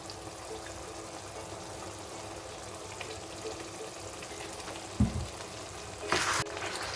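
Masala, tomatoes and yogurt fry quietly in a karahi for a Balochi karahi, a low continuous sizzle broken by a thud near the end and a brief louder splash as something is added.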